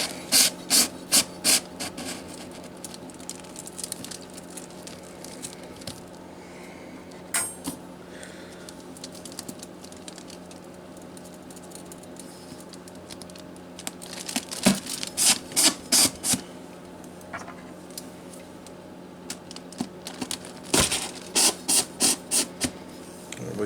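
A wire coat hanger rack scrapes and rattles as it is pushed through the cardboard wall of a homemade cardboard oven, in repeated short rasping bursts separated by quieter pauses, close up with no talk.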